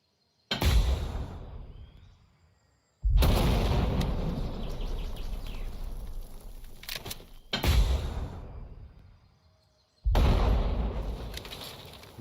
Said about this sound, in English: Three mortar shots, 0 mortar hits.